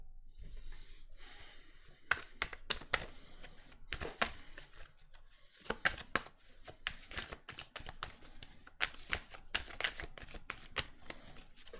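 Tarot cards are shuffled and drawn for a reading, giving a close, quiet series of crisp riffling flutters and papery snaps in irregular bursts, repeating throughout with brief pauses.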